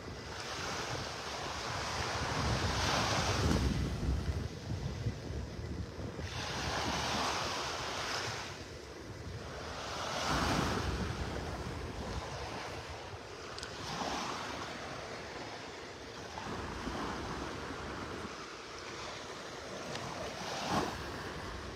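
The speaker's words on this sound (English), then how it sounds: "A few little waves breaking along the shore here." Small, gentle Gulf of Mexico waves break on a beach in North Naples, Florida, on a calm morning, rolling in every few seconds with soft surges, alongside steady wind noise on the microphone.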